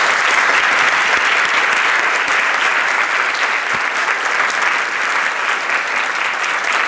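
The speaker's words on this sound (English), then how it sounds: "Give a round of applause to our panel." An audience applauds a conference panel with steady, dense clapping that holds at an even level for about seven seconds with no pause.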